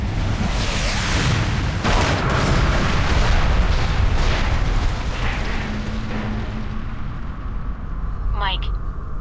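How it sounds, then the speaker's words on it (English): Missile strike explosions from the spy game Alpha Protocol, a dense, loud rumbling barrage of booms and blasts that runs for several seconds and then eases into lower rumble, with a short whistling sweep near the end. "I'm tracking multiple missiles homing in on your coordinates."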